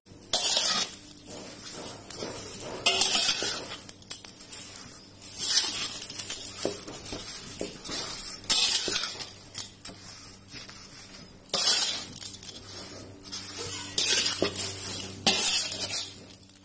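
A kaddo boddo mixture, a Bugis Makassar sweet, is stirred in a pan while it heats, with repeated bursts of scraping and sizzling spread over the clip between quieter moments.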